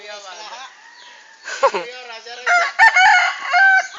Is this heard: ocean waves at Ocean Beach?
no